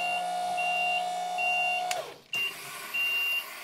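A 2015 SkyJack SJIII4632 electric scissor lift with twin cylinders sounds a steady electronic alarm tone while it raises. A lower tone drops out partway, followed by a brief click and a short gap, then the intermittent high beeps resume nearby.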